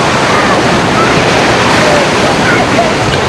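Strong wind buffets the microphone at the beach, a loud, steady broadband roar that covers the whole clip, mixed with the wash of surf and no clear speech.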